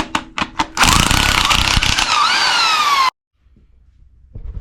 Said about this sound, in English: start taking these head bolts off.